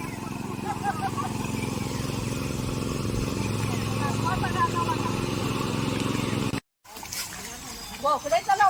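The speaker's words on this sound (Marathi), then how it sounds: "इकडे आता चिखलनी चालू आहे बघा. तर ते काका ट्रॅक्टर चालवत आहेत बघा." A tractor engine drones steadily while puddling a muddy paddy field with sloshing water in Nanar village, then cuts briefly; splashing and engine noise resume near the end.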